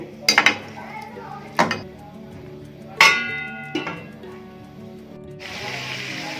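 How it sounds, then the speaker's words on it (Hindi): A metal lid set down on a cooking pot of green chicken karahi, giving a few sharp clanks and knocks spaced over several seconds, followed by a steady hiss from the pot at the end. "और इसको अभी कवर कर देंगे"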